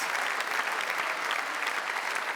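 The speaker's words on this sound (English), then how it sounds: "They tend to applaud good points." Dense, steady applause from spectators at a men's World Cup table tennis semifinal in Germany, a broad even patter of many hands at moderate distance.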